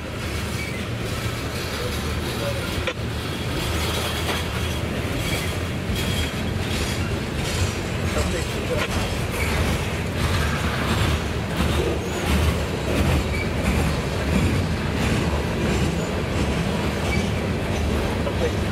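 A CSX freight train rolls past on the tracks, a loud continuous rumble of wheels and rail cars with rhythmic clacking and faint squeals throughout.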